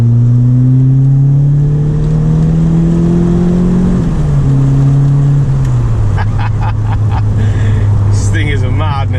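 A 1985 Ford Escort Series 1 RS Turbo engine pulls hard through third gear, a steady rising drone climbing in pitch, then dropping briefly at a shift before settling into a lower note, close and loud inside the car, with a few sharp clicks near the end.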